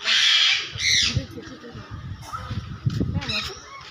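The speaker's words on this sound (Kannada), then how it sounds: "ಸನ್ಕೋನರ್ಸ್ ಪಕ್ಷಿಗಳು, ಬಹಳ ಜೋರು ಶಬ್ದ ಮಾಡ್ತಾ ಇದ್ದಾವೆ." Loud, shrill squawks from sun conure parrots at a zoo's parrot enclosure burst out in short harsh calls while a person talks underneath them.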